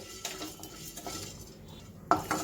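A utensil stirs roasted coconut and black pepper in a hot kadai with the gas off, soft scraping and a couple of sharper metal clinks near the end, faint and close.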